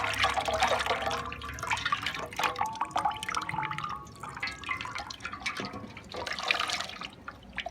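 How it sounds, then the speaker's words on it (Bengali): Water drips and trickles off a dyed saree cloth as it is lifted out of a basin of soaking water, with irregular splashy drops and running liquid close by. "এবার আমি জল থেকে কাপড়টা তুলে নেব"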